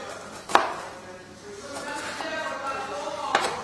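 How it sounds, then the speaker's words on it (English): Two sharp knife chops on a cutting board, about three seconds apart, with someone talking quietly between them. "chopping along the onion lengthways, but not chopping all the way through"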